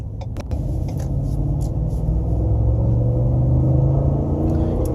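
A deep, steady 6.2-liter V8 truck engine rumble runs throughout, loud and close, with a low throaty tone that swells slightly as it continues. No talking.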